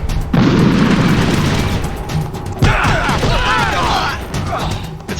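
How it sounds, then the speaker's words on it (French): Grenade blasts in the stealth game Metal Gear Solid: The Twin Snakes, two heavy booms about two seconds apart, each followed by crashing debris and rattling gunfire, loud and close. "C'est vrai qu'il lance des grenades."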